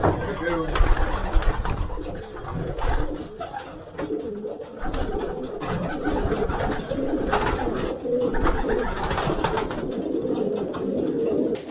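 Racing pigeons coo steadily inside a confined loft, soft throaty calls overlapping, with bursts of wing flapping and rustling near the listener; a voice talks over the birds throughout.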